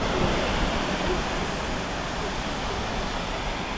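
A tall waterfall rushes in a continuous, steady broadband roar, close and loud throughout with no pauses, its dense wash of falling water filling the whole scene.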